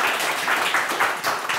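A studio audience at a television quiz show applauds steadily during a diploma presentation, with dense overlapping clapping that holds an even level throughout and no voices on top.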